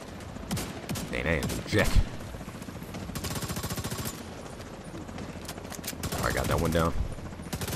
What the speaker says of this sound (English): I'm using my shotgun